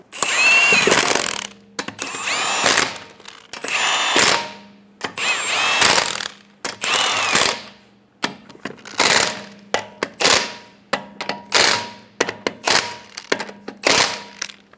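Bursts of a power tool snugging down lug nuts on a 2003-2008 Honda Pilot during rear sway bar link replacement: several loud whirring runs of a second or two, then a string of short rapid rattling hits, close up.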